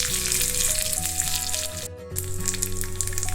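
Cumin, fenugreek, a dried red chilli and curry leaves crackle in hot oil for a brinjal gotsu tempering, a steady close sizzle running throughout with a tonal melody over it and a brief dip near the middle.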